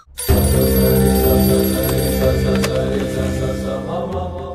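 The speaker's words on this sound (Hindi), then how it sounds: "रामाचारी जी को फोन कर।" A telephone bell rings loudly and continuously after a brief silence, a harsh, sustained metallic jangle close by.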